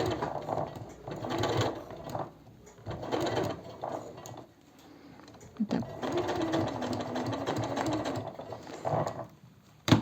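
A domestic sewing machine stitches fabric at a stitch length just over 3, in several loud close bursts of rapid mechanical whirring separated by short pauses, with a quiet voice under it.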